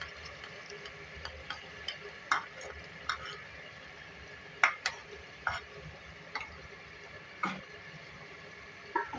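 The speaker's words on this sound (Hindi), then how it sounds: "अच्छी तरीके से इसकी भुनाई करेंगे" Potatoes with spices and yogurt fry in a pot, a soft steady sizzle with scattered spoon taps and scrapes as it is stirred, quiet and close.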